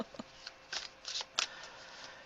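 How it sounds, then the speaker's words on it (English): Tarot cards are shuffled close by in several quick riffling bursts, soft and crisp, with brief pauses between them and no talking. "Then we're going to shuffle some more."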